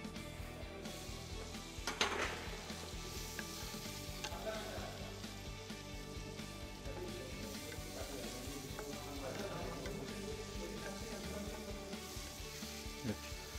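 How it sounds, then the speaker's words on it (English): Diced mushroom sizzles in melted butter in a pan, a steady, fairly quiet frying hiss that runs throughout, with a brief scrape near the start and no one talking. "Now in the melted butter, we will add diced mushroom."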